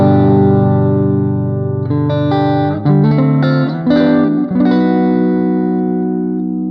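Electric guitar played through a Jimi Hendrix amp model in Amplitube 5, ringing sustained chords and bends with a warm overdriven tone, loud and close with a few brief breaks between phrases.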